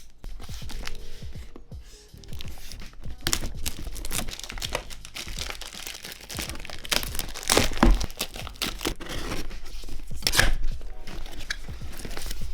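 Cardboard and plastic packaging crinkle, tear and crunch as a retail box for a Hohem iSteady X2 foldable mobile gimbal is cut open, a busy, continuous rustling close up with sharp cuts and rips throughout.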